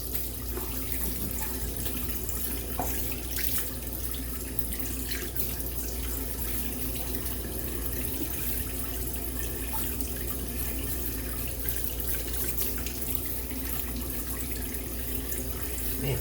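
Tap water runs steadily into a sink during a shave, rinsing off shaving soap: a constant close rushing splash with faint drips and small clinks, and no talking.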